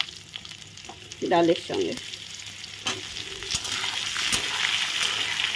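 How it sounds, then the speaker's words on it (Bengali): Potatoes frying with lentils in a pan make a loud, continuous sizzle, with clinks of stirring and a short spoken phrase over it early on. "আমি এখন ডালে প্রথমে দিয়ে দিচ্ছি আলু দিয়ে দিচ্ছি। আলুগুলো ভেজে নেব"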